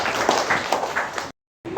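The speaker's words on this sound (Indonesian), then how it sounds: "Silakan beri aplaus yang maju untuk kelompok yang kedua." Classroom applause for a presenting student group, a short burst of scattered clapping that cuts off abruptly into silence and then briefly resumes.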